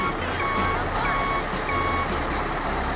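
A truck's reversing alarm beeps in a steady repeating pattern at a work site where an excavator and a tipper are clearing rocks and moving wood, with a low engine rumble underneath.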